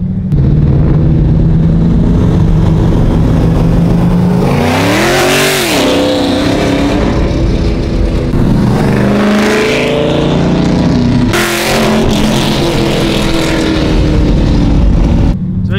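A Camaro ZL1 with Texas Speed headers, a cold air intake and a muffler delete revs loudly up close, its engine rising and falling through several sharp throttle blips over a constant idle rumble.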